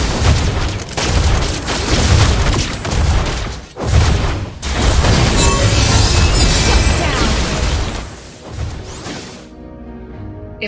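A turret is destroyed in the Mobile Legends video game amid a loud, continuous wash of booms, crashes and impact effects that swells and dips before fading out near the end.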